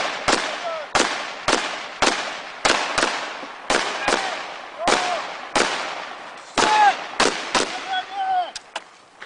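Gunfire from a buddy team movement drill: a dozen or so loud, sharp shots in irregular bursts, close by, with brief shouted voices between some of them.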